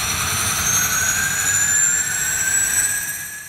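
Turboprop engine of a Stream Turbo basic military training aircraft runs with a steady loud roar and a high whine that rises and falls, close by and alone for about three seconds.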